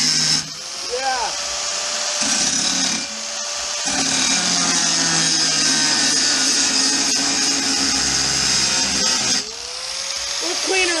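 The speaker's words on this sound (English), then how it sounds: "This grinder was definitely not made for this application." Dremel-style grinder working on a Honda Civic engine intake part, a loud high buzzing whine that runs in bursts, cutting out briefly and restarting, with a person talking at times.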